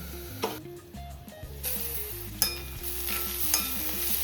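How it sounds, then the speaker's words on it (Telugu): A spoon stirs black-eyed peas cooking in a pan, giving a steady sizzle with scraping strokes and a few sharper clinks, close and moderately quiet. "ఇలా మిక్స్ చేసిన తర్వాత మూత పెట్టేసుకొని మగ్గించుకుందాం."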